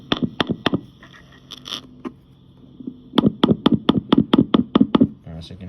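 Electric guitar pickup tapped through an amplifier to test both coils makes a series of sharp knocks. A few come first, then a steady quick run of about a dozen taps, with faint talking.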